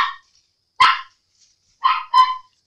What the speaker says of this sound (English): Sorry about her barking.